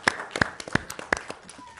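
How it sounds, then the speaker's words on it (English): A handful of scattered hand claps from a small audience at a first-time home buyer and seller workshop, sparse and uneven, fairly close and moderately loud. "Let's give them a hand of applause."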